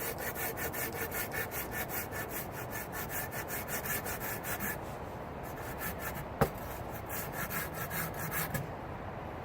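A Fiskars 13-inch pruning saw cuts through wet wood with steady, rhythmic back-and-forth rasping strokes close by, its pace loosening slightly toward the end, with one sharp click partway through.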